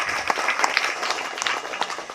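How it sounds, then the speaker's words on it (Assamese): An audience at a speech claps their hands in a lively round of applause, individual claps standing out sharply over a dense, steady background of clapping. "তেওঁৰ কাৰণে এটা হাত চাপৰি দিয়ক।"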